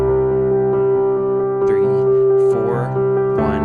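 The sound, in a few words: piano rhythm pattern walking up chord progression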